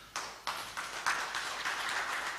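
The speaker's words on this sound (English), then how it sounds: "Applause for him." Applause from a conference audience at a marine technology event, a few separate bursts of clapping that build into steady moderate applause with no voices.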